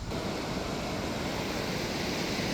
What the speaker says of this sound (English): The waves on this beach are quite noisy.